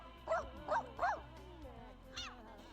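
Short yips and whimpers from a dog in The Sims video game, three quick cries close together followed by one more after a pause, over a faint game background.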